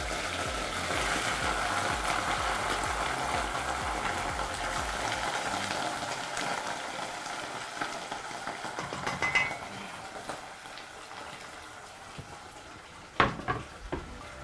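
Goat liver frying in a pan, a steady close sizzle that gradually eases, ending with a couple of sharp clinks of a utensil against the pan.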